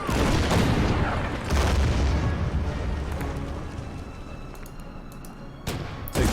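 Artillery fire in the WWII strategy game Order of Battle during the Tobruk battle, with deep booms rolling one after another, then sharp blasts near the end over a dense rumble.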